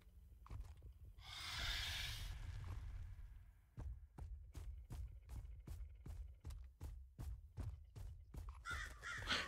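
Repeated harsh caws from crows, a dozen or so in a steady rhythm, fairly close, after a burst of rustling noise.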